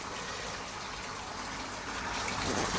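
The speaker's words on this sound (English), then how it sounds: "This is just the first, what I call super sort of rinse, just to get the majority of whatever hoppage is left after I rinsed it out." Water rushes steadily into a Fermzilla fermenter during a rinse to clear leftover hops after dry hopping, a constant close gushing wash with no voices.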